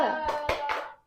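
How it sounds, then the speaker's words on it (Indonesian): A fourth-grade elementary classroom claps together in a short rhythmic cheer routine: three sharp, evenly spaced group claps ring out over a fading hum, then stop. "Jadi kita akan melakukan tepuk semangat."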